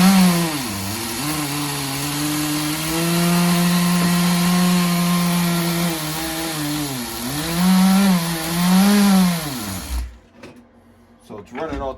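A Tamiya TGS-R nitro RC car's .16 engine with an aftermarket carburetor runs loud and close, its buzzing whine rising and falling unevenly before cutting out abruptly, leaving faint clicks and handling sounds.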